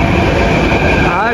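A Mumbai Metro train arrives at a crowded station platform, its loud rumbling roar and rising whine filling the moment while a man exclaims briefly over it.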